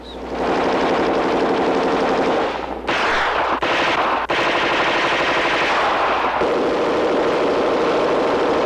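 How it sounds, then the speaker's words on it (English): Heckler & Koch firearms in a 1970s live-fire demonstration, loud sustained automatic bursts roaring almost without pause, broken by a few brief gaps between strings of rapid shots. "And now, functional firing."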